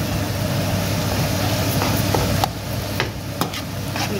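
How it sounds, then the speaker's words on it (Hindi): Eggplant bharta cooking in desi ghee, with a steady low sizzle and soft scraping as it is stirred in the pan, plus a few light spoon clicks near the end. "इस भुर्ते को इस देसी घी में अच्छी तरह से कुक करेंगे इसको"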